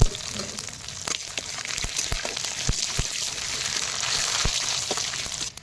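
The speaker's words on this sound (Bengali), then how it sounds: "তেল গরম হয়ে গেছে, দুটো তেজপাতা, দুটো শুকনো লঙ্কা, 5টা এলাচ, আর এটা সাদা সর্ষে, মৌরি আর 5 ফোড়ন, এগুলো আমি দিয়ে দেবো" Bay leaves, dry chillies, cardamom, white mustard seed, fennel and five-spice sizzle in hot oil for a chalta pickle, a continuous hissing fry peppered with sharp popping crackles at a close, moderate level, with no speech.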